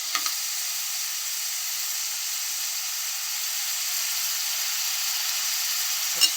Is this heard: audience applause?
no